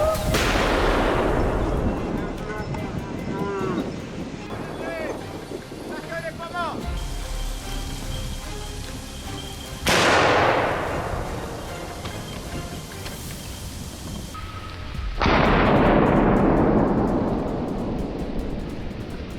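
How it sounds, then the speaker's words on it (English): Rifle shots from a wild boar hunt by a forest stream ring out as sharp, loud blasts, at least three, each trailing a long rumbling decay, with spoken voice between them. "A precise, clean shot dropped one of them right where it stood."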